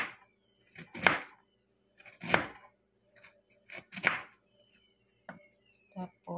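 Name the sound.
knife slicing peeled ginger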